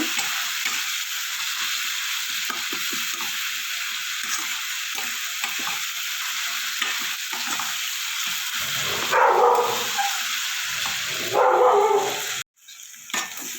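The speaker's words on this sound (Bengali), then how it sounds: "আদা রসুন পেঁয়াজটা ভাজা ভাজা হয়ে গেছে একটু" Ginger, garlic and onion frying with spices in a pan for an elephant foot yam dish, a steady close sizzle with scraping stirs and a couple of louder bursts, a brief break near the end.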